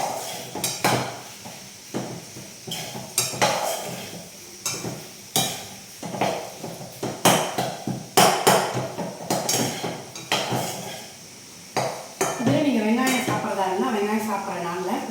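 A spoon clanks and scrapes repeatedly against a pan as grated coconut is mixed into a curry, in close, uneven bursts of metallic knocks, with a voice briefly heard near the end.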